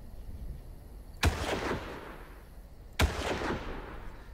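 Two sharp, loud gunshots from the Far Cry video game, spaced well apart and each followed by a decaying echo, with no talking.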